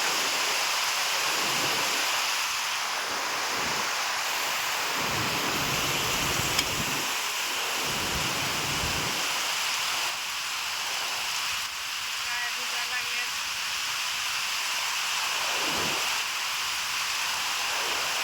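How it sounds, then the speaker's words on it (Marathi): Dense, steady hiss of heavy cyclone rain pouring down in Solapur district, flooding fields with water, continuous and loud, with faint low murmurs underneath at intervals. "पाऊस एवढा झालाय बघा सगळं पाणी पाणी झालं"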